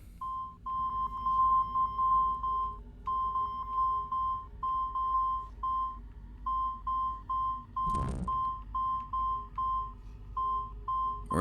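Repeated short electronic beeps from an Assassin's Creed 2 glyph, pulsing in quick bursts then steady spaced pips over low game ambience, with a brief noisy swoosh near the end.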